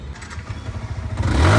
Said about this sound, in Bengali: ভাই একটু স্টার্ট দেন তো বাইকটা।